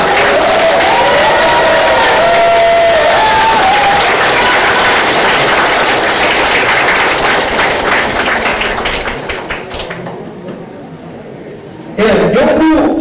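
Crowd applauds and cheers at the opening of an election campaign office for a county governor candidate in Hamyang, a loud sustained wash of clapping with voices mixed in, fading near the end before a voice speaks.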